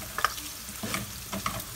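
Meat sizzles and spits in a hot pan, with soft crackling pops and bursts of stirring noise, close and steady.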